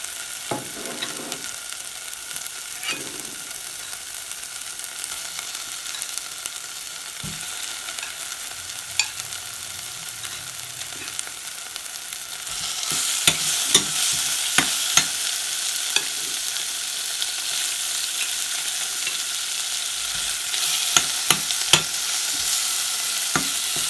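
Fish goes into a pan of hot oil with fried chili, the sizzle jumping louder partway through and then holding as a steady close crackle, with occasional sharp scrapes and knocks of stirring.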